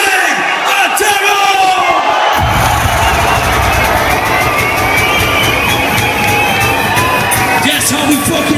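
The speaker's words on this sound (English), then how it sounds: "Please, give it up and scream as loud as fucking possible" Large concert crowd at a club show in Glasgow erupting into loud, sustained cheering, screaming and whooping that swells suddenly and fills the space, with shouting voices throughout.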